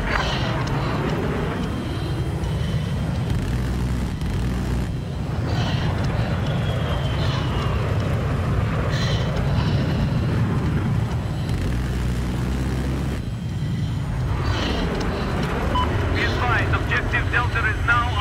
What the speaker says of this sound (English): There's a jet coming over their mountainside.